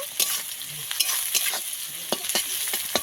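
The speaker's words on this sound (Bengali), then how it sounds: "কেটে রাখা পেঁয়াজ দিয়ে দেবো পেঁয়াজটাকে ভালো করে ভেজে নেব" Chopped onions frying in oil with nigella seeds, a close crackling sizzle overlaid with quick scraping strokes of a spatula against the pan, and no voices.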